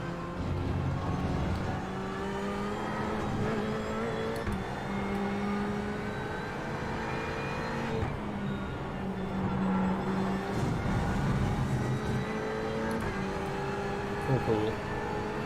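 A spec racer race car engine in the iRacing simulator drones steadily for the whole stretch, with slight rises and dips in pitch as it laps, while someone talks over it.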